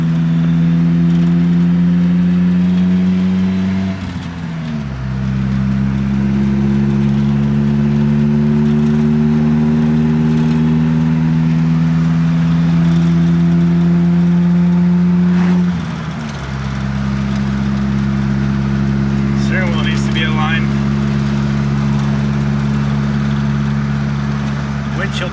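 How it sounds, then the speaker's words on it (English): A lowered minitruck on a quick test drive hums with a steady engine drone from inside the cab. The pitch climbs through two gear shifts, each marked by a brief dip. "I'm gonna go for a quick test drive because why not?"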